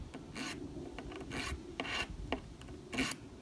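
Scraping passes of a putty knife drawn through a carbide V-notch sharpener, a raspy rhythmic filing sound in several quick strokes, close and fairly quiet with no talking.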